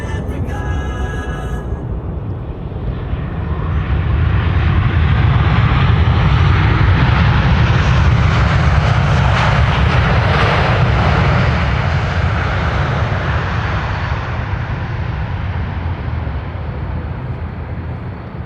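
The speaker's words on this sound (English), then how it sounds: "KLM Flight 598 arriving from Cape Town" KLM airliner arriving at Amsterdam Schiphol Airport, its engine roar swelling loud as it passes close, then holding as a broad, sustained rumble that eases slightly toward the end.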